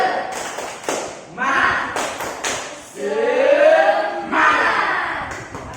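Group spirit-clapping (tepuk semangat) in a classroom counseling session, with bursts of rhythmic claps from several people after a spoken count, mixed with voices and chatter.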